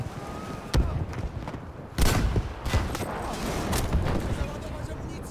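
Weapon fire in the video game Battlefield V: a few sharp shots stand out, the strongest near the start and middle, over a busy, continuous battle bed with voices in the background.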